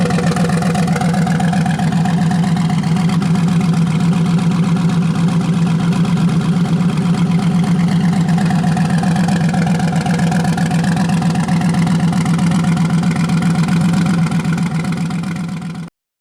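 A twin-turbo Chevrolet Camaro idles steadily and loudly close by, a deep, even engine drone with a low, lumpy pulse that holds unchanged for about fifteen seconds before cutting off abruptly at the end.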